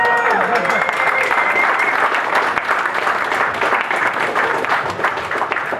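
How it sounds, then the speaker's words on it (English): Applause fills a press conference for the SKT T1 team at the League of Legends Season 3 World Championship, a dense, steady clapping from a crowd that runs loud throughout with no pause. "Let's give him another round of applause."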